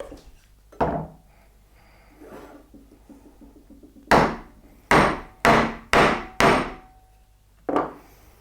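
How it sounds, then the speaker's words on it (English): Mallet blows on a chisel cutting a mortise in wood, a few spaced knocks followed by a quick run of five sharp, close, woody strikes and one more after a pause. "Turn the chisel round so the bevel's facing that way, and I'll make my way back towards the other end"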